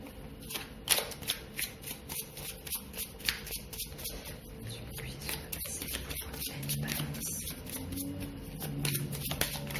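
Tarot cards shuffled by hand in rapid, crisp riffling bursts, close and steady over a faint background hum, with a few heavier slaps as the deck is worked until a card jumps out.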